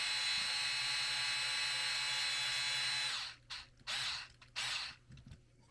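A power drill drives screws while mounting portal axles on an MST CFX-W J45C RC crawler. The motor whines steadily for about three seconds, then gives several short bursts. It is close and alone, with no talk.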